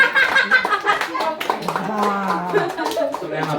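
An audience claps after a performance at a Rabindra Jayanti celebration, a short burst of applause heard beneath a host's voice, with a voice and light laughter mixed in.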